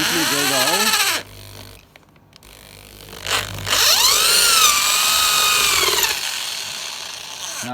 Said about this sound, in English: using the drill bit supplied with the kit, neatly drill the hole